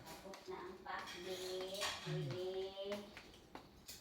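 A utensil stirs pinakbet vegetables in a metal pot with scraping clinks and soft knocks, close by, while people talk over and between the strokes.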